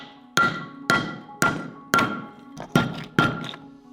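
Smithsonite zinc ore pieces being crushed, heard as seven sharp, loud thunks at a steady rhythm with a brief pair of softer knocks near the end, each strike ringing out quickly.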